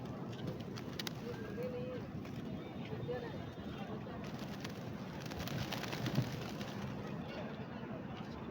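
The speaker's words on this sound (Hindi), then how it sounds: "ये कबूतर पकड़ने की प्रैक्टिस कर रही है।" A flock of pigeons coos and flutters faintly near scattered grain in an open square in Makkah, under steady crowd murmur and a voice talking.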